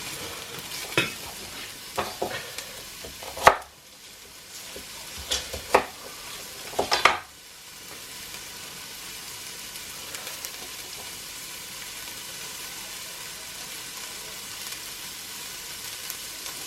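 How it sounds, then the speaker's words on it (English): Onions stirring and sizzling in a pan at the start of a corn and shellfish chowder, with scraping stir clatters in the first seconds and then a steady frying hiss, near and alone. "they are going to start hearing that, or smelling should I say, the onions catching"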